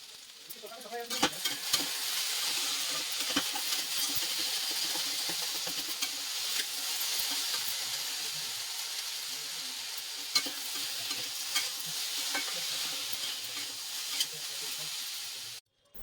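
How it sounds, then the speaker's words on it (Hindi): Bhujiya is stir-fried in a pan with salt and turmeric, a continuous close sizzle broken by scraping and stirring strokes, steady throughout with a few sharper clinks. "और फिर मैं भुंजिया में नमक डालूंगी और हल्दी डालूंगी, और ढकते हुए अच्छे से भून करके भुंजिया को बना लूँगी"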